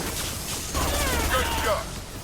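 Gunfire in the Mass Effect 2 Legendary Edition combat against mercs, a quick burst of shots under voiced character chatter, fairly loud and close amid the battle's noise.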